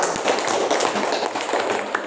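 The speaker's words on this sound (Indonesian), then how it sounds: "Ya, tepuk tangan dulu untuk kita semua." Schoolchildren in a classroom clap their hands together in a steady, moderately loud round of clapping that continues throughout.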